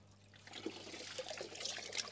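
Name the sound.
filter sponge being rinsed in pond water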